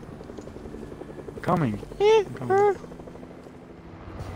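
A helicopter flies in a video game, its steady rotor thrum running through the whole stretch while a voice briefly speaks over it.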